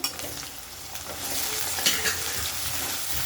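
Tomato and chilli fry and get stirred in a hot pan for Maggi, a steady close sizzle with scraping stir strokes and brief clatters, no voices.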